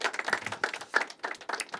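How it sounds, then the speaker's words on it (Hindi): A small audience at a poetry open mic claps in a brief, uneven burst of distinct, close hand claps. "एक बार जुगनू के लिए तालियां बजनी चाहिए मेरे।"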